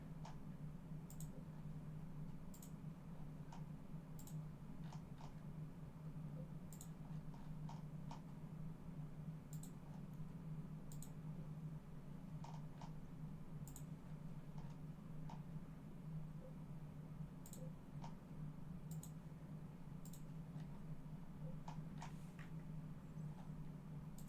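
Sharp computer mouse clicks while working in FreeCAD CAD software, small dry ticks spaced irregularly every second or two over a steady low hum, quiet and close.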